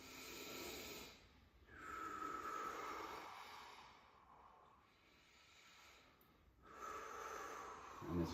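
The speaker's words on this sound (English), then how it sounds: "I wanna try and expand your ribs when you take the deep breath" A patient takes slow, deep breaths while expanding the ribs during a breathing exercise, with about three soft, airy inhale-exhale swells that are faint and close, with no talking.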